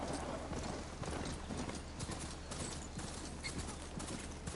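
Mount hoofbeats in Horizon Forbidden West, a steady galloping clip-clop that runs the whole time at full level over a dense, busy game soundscape with no talk.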